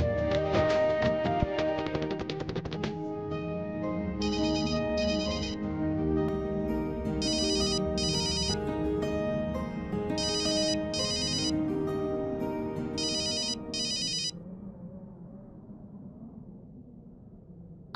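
Mobile phone ringing with an incoming call, a loud melodic ringtone tune playing continuously for many seconds with bright repeated chiming bursts, then cutting off and leaving a faint background hum.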